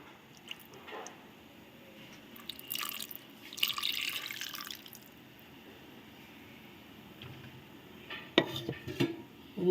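Water from a jar is poured into a pan of spiced flat beans, a short splashing pour in the middle of an otherwise quiet stretch, followed near the end by a few clinks of the pan and utensils.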